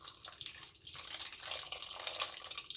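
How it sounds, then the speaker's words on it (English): A thin stream of canned pineapple juice pours and splashes faintly into a container for a ham glaze, a soft continuous trickle with small gurgles. "We're going to pour the juice into our"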